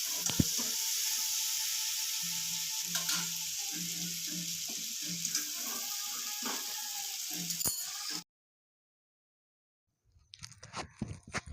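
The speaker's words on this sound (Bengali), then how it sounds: "আলুগুলো সব ভাজা হয়ে গেছে" Potatoes, tomatoes and bean seeds frying in a pan give a steady close sizzle with light stirring clatter, broken by a short silence before quieter crackling returns.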